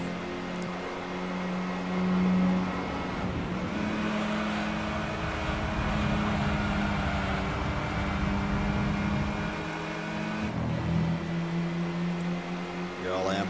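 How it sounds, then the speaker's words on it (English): Chrysler PT Cruiser engine droning as it strains up a hill in Gran Turismo 3, a steady mid-pitched hum with shifting tones, heard under someone talking. "this PT Cruiser does not like uphill"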